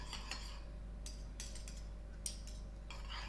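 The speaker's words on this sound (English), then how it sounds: "Give it a stir around." Spring onions stirred into a sauce for a spicy tofu stir-fry, with faint, intermittent utensil scrapes and light clinks against the pan over a low background hum.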